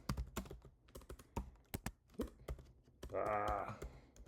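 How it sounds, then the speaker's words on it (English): Rapid keystrokes tap out a query on a computer keyboard, close and crisp in irregular bursts, with a short stretch of a voice near the end. "So we'll just type that in here."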